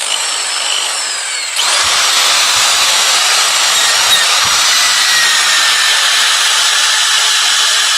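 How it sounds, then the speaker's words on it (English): A wood lathe whirs loudly and steadily as sandpaper presses against a spinning piece of wet walnut, a harsh abrasive hiss continuing evenly at close range. "I can just sand it like this"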